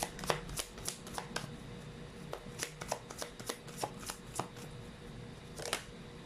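Tarot cards are shuffled close up in a quick run of crisp riffling flicks and soft slaps, steady and fairly quiet against a low room hum, with no voice over them.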